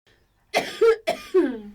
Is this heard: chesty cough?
yes